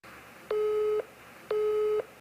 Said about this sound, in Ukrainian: Спочатку гудки, потім скидання.